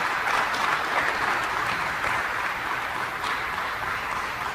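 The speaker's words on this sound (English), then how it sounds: "Let's give them another great big round of applause" An audience at the Buffalo film and TV production facility event applauds in a dense, steady wash of clapping that stays loud and even for several seconds.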